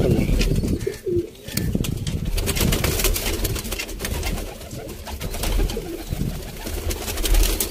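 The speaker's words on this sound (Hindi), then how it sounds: "फ्रंट तो कबूतर है" Pigeons coo amid a dense, noisy outdoor backdrop in Sialkot, their low calls blending with steady rustling and occasional wing flutters.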